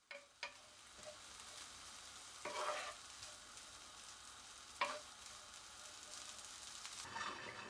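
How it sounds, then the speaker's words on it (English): Salted mustard being stir-fried in a dry pan without oil: a faint, steady sizzle broken by a few soft scraping stir strokes, no voices. "Stir fry the sauteed mustard for around 2 minutes."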